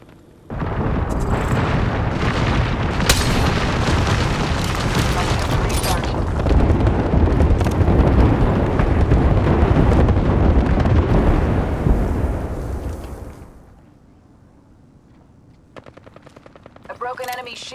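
An artillery strike in the game Apex Legends pounds down as a long barrage of dense, loud explosions and rapid booming blasts for about thirteen seconds. The barrage fades into quieter rumble, and short game voice callouts follow.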